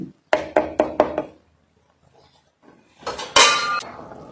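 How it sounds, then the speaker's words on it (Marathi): A metal lid clanks onto a pot while spicy Kolhapuri misal cooks: four sharp, ringing knocks in quick succession, a pause, then a louder clatter of metal on metal with a brief ringing tail, close and clear. "आता मी याच्यावर झाकण घालणार आहे"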